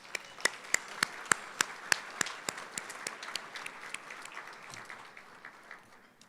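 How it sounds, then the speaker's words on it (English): Scattered hand claps build into steady applause from a moderate banquet crowd in a hotel ballroom, sharp individual claps standing out early, then a dense wash that gradually fades. "Let's give them a round of applause."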